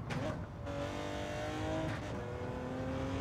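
Porsche 917 race car at full throttle in Gran Turismo 7 on a wet Spa lap, a loud sustained engine roar climbing through the revs with a gear change and brief tire noise.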